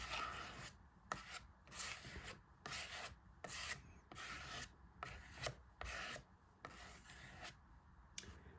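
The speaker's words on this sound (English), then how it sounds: "you're just going to scrape this all over until your page is full." Paint is scraped across an art journal page with a key card in repeated rhythmic rasping strokes, roughly a dozen short gritty scrapes, close and fairly quiet, with no talking.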